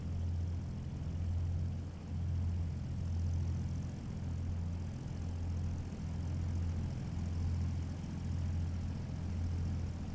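A propeller aircraft engine in the Vortex SC flight simulator during Red Bull air racing stunts, a steady, loud, low drone with slight swells in intensity and no talk.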